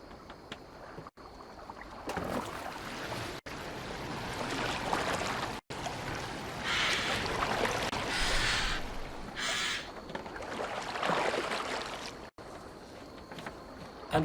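Oars splash and creak as a boat is rowed across water in Assassin's Creed Valhalla, with repeated strokes and swells of water over a soft ambient bed. A crow caws faintly.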